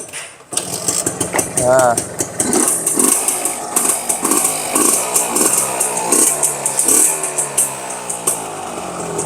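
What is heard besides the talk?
Suzuki RX two-stroke motorcycle engine running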